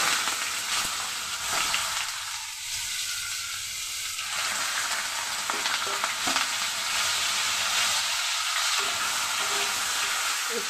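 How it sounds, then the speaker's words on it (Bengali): Carrots fry in ghee in a pan for fried rice, giving a steady sizzle and hiss with brief stirring scrapes, close and moderately quiet, with no talking. "একটু ভেজে নেব গাজরটাকে"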